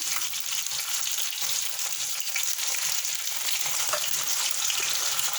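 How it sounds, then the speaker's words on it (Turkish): Steady, dense sizzling of anchovies frying in hot oil in a pan, a continuous crackling hiss without pause. "bu şekilde kızartacağız"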